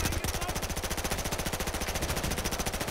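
Rapid automatic gunfire from the video game Battlefield Hardline during a team deathmatch, delivered as a continuous, evenly spaced, loud burst.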